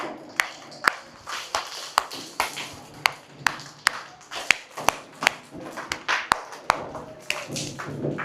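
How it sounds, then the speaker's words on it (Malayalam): Preschool children clapping their hands together at a school health session, a loose run of sharp, uneven claps spread across the clip with no talk over them. "ഇനി എല്ലാരും ഇങ്ങനെ കൈ ക്ലാപ്പ് ചെയ്യ്"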